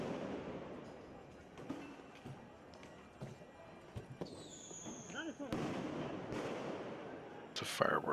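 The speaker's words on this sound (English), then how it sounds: "People are shooting fireworks at the police" Protesters in Beirut shoot fireworks at police during street clashes. Sharp pops and crackles sound from a distance over crowd noise, with a whistling rocket rising midway, and people talk throughout.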